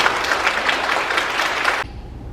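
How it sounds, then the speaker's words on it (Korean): Dense, steady applause from a large church congregation welcoming a pastor, sustained for a couple of seconds and then cutting off abruptly into near silence. "박수로 환영하도록 하겠습니다"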